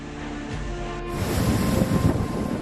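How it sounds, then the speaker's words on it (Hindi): Water surges out of the opened gates of the Kaliyasot dam after heavy rain, a broad, steady roar of rushing water that grows louder and rougher partway through and stays dense to the end. "पानी की ये लहरें खतरनाक हो सकती हैं"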